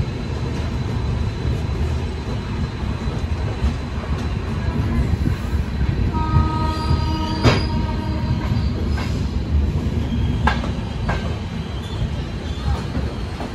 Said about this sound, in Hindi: अभी चल चुकी है हमारी ट्रेन प्लेटफॉर्म नंबर 4 से।